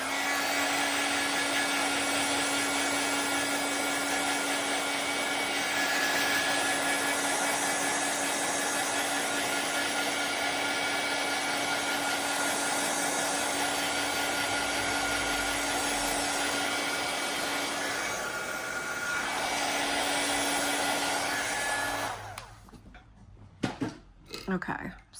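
Hair dryer blowing on wet paint on a hand-painted floral card, a steady continuous whir with a constant tone held for about twenty seconds, close and loud, then switched off, with clunks after.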